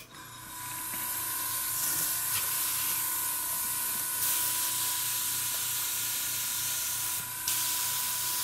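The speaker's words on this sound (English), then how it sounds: "I'm spraying at about 17 pounds PSI, and I'm just putting a light coat on here" A paint spray gun running at about 17 PSI lays down a light coat, giving a continuous loud, close hiss with a low compressor hum underneath and a few brief breaks in the spray.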